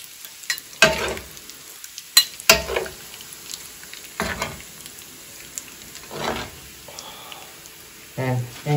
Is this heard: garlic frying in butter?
yes